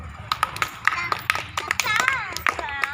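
Sharp, separate hand claps in an uneven rhythm during a children's lesson on birds, with young voices chanting over and between the claps.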